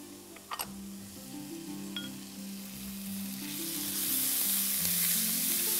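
Cumin seeds, bay leaves and peppercorns sizzle in hot oil for a fish dish in turmeric sauce, a steady frying hiss that swells louder toward the end, with a couple of small clinks early on.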